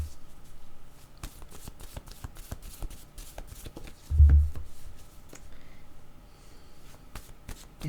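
Word cards being shuffled and drawn from a deck, a steady run of soft papery flicks and taps with one heavier thump midway, fairly quiet and without voices.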